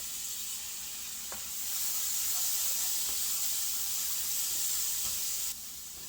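Garlic sizzles in a pan while French bread pizza is being made. A bright, steady frying hiss grows louder after a moment and stays strong, then drops back abruptly near the end.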